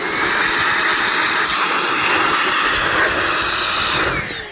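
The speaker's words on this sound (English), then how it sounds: "was able to get mostly dry with the Malif 20 volt blower, the 20 volt battery from DeWalt there on it" A cordless 20 volt blower running on a DeWalt battery dries off a dirt bike, a loud, steady airy roar that holds for several seconds and then begins to fade at the end, with no talking.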